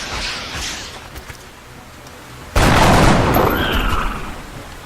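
Weapons fire in the video game XCOM: Enemy Within: faint distant shot pops, then a loud sudden blast that trails off into a rumbling roar, with no talk.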